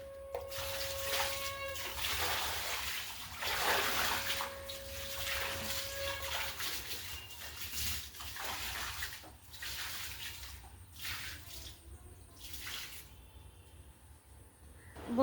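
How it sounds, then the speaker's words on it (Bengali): Water splashing and running as outdoor steps outside a gate and the tap area are washed down, a steady broadband wash with bursts of spray, continuous and fairly close. "এবারে গেটের বাইরে যে সিঁড়ি আছে, সিঁড়ি আর বাইরে যেটুকু জায়গা আছে সব জল দিয়ে ধুয়ে দিলাম"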